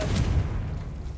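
A Confringo blasting curse explodes in Hogwarts Legacy: a deep, loud boom with rumbling low-end that rolls on and fades slowly over about a second.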